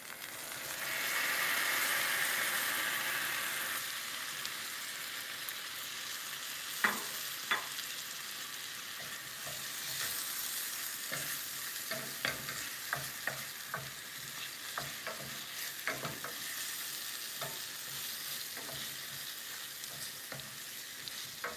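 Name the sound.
tomatoes sizzling and being stirred in a pan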